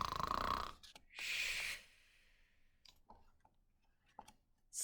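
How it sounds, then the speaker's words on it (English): A crocodile snoring in a children's story: two loud, rasping snore bursts, then quieter breathy snorts and clicks, close up with no talk. "Stop snoring"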